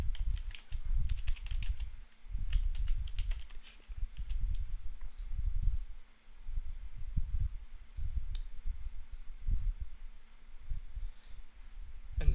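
Continuous clicking of computer keyboard keys as an equation is typed into OneNote, with bursts of keystrokes separated by short pauses, close and fairly quiet.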